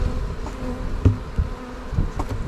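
Honeybees buzzing at an open hive during a spring inspection, a steady close insect drone with a few louder passes of individual bees near the listener, no voices.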